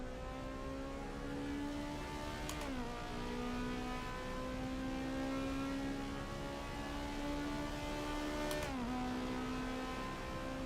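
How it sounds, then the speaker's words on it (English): Engine note of a VTEC-equipped car in the racing game Assetto Corsa Evo, a steady sustained tone with two sharp shift points where the pitch drops and climbs again, alone with no talking. "I just want to hear that VTEC one more time."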